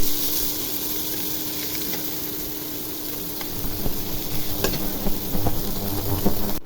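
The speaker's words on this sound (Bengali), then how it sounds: "পেঁয়াজগুলো এখন ভেজে নিব।" Chopped onions sizzle steadily in hot oil in a pan for a rohu fish curry with vegetables, a loud, continuous hiss with occasional stirring scrapes toward the end.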